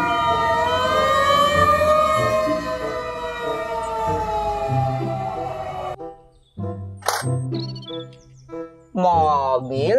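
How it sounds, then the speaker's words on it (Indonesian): A toy fire truck's electronic siren wails loudly and steadily in rising and falling tones for several seconds, then cuts off and a short tinny melodic chime from the toy follows. "Mobil truk pemadam kebakaran."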